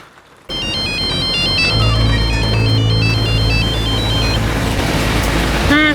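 A mobile phone ringtone plays while a call is placed in a Mumbai crime drama, a repeating melodic electronic pattern heard clearly over a steady low background drone.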